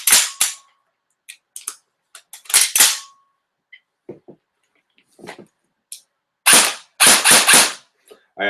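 KWA SR7 DevGru airsoft rifle with a high-torque motor firing quick single shots and short rapid bursts, sharp snapping cracks scattered irregularly with brief gaps, close and loud.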